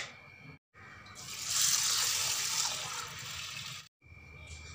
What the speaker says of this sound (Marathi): आता हे पाण्याने धुवून घेते मी।